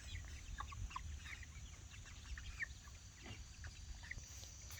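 Hungry meat chickens cluck softly and steadily nearby, a faint chorus of scattered calls over a low background hum.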